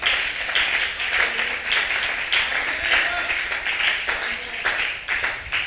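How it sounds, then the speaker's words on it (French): A church congregation applauding and clapping for the Lord, a dense sustained round of clapping with voices mixed in. "Est-ce qu'on peut acclamer pour notre Seigneur?"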